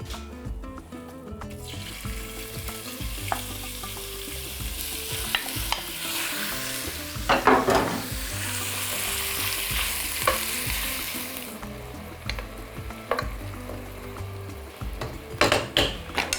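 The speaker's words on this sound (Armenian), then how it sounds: "եւ տապակում ենք մսակտորները" Chunks of beef sear in a hot pan, a steady close sizzle broken by repeated scraping and clattering stirs, swelling louder around the middle and near the end; no one speaks.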